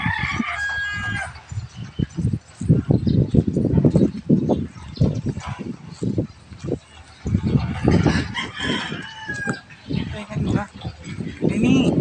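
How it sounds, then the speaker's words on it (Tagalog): A rooster crows and chickens cluck over steady, fairly loud talking from several people close by near Mount Makiling, with the bird calls recurring throughout. "Yung may manok."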